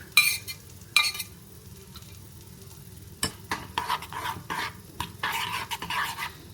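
A mixture is stirred in a bowl, with scattered scraping and clinking strokes in an irregular rhythm, fairly close and moderately quiet.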